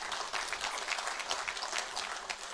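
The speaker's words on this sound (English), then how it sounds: "Please, if you're Ugandan, clap for President Museveni." An audience at a Uganda–United Arab Emirates business summit gives President Museveni a steady burst of dense applause, many hands clapping together throughout, with no voices rising above it.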